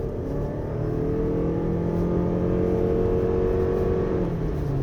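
2024 Lexus RX450h+ hybrid SUV engine pulling hard in eco mode on a winding road, a steady rising interior drone with smooth climbing engine tones and no talk.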